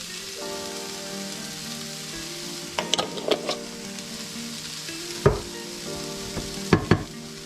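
Burger mixture with carrots, seasoned with black pepper and salt, sweating in a pan: a steady soft sizzle runs throughout, with a few sharper clinks and clatters of a utensil, and no talking.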